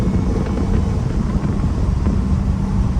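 A loud Dodge Hellcat is driven, heard from inside the car. A dense, rumbling engine and road roar with wind buffeting carries on steadily throughout, with no voices.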